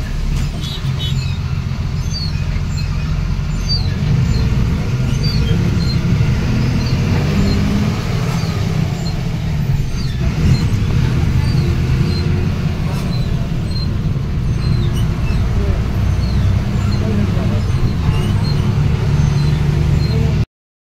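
A state transport bus rumbles along a rough, badly broken road, with a heavy continuous low engine drone, rattling and bumping throughout, loud and close from inside the vehicle.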